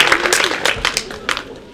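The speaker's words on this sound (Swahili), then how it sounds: "Mheshimiwa Esther Passaris, makofi kwake." An audience at a reproductive health sensitization session applauding an MP, a short burst of scattered hand claps lasting under two seconds, close and moderately loud, with some voices mixed in.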